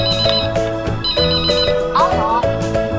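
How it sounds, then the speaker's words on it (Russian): Educational toy phone model L4882 switched on, playing a bright electronic greeting melody of repeated beeping tones with a short warbling run, loud and close, with a child-directed voice mixed in. "При включении телефон поприветствует малыша, а на экране будут загораться разные мигающие картинки."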